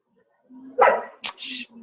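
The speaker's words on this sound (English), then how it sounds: "That's my dog is barking." A dog gives a short, sharp bark followed by a quick yip, both close and loud, amid a quiet indoor room with a soft voice in the background.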